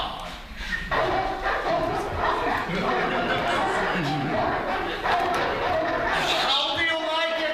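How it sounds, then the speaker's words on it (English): Several dogs bark and yip on a grand estate, the barking mixed into lively crowd chatter and people talking over them throughout. "And these are my dogs"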